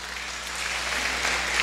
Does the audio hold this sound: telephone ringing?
no